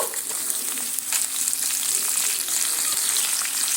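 Cauliflower pieces frying in hot oil with nigella seeds, a loud, dense, continuous sizzle close up with faint stirring, no speech.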